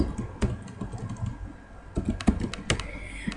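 Computer keyboard keys clatter in irregular bursts of close clicks as C++ code is typed, with brief pauses between flurries and no talking.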